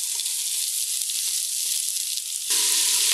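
Meat chunks browning for a Sunday sauce, a dense, bright sizzle close up in the pan that swells louder partway through, steady with no speech.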